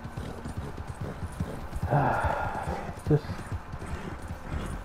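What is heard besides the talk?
horse galloping hooves, Red Dead Redemption 2 video game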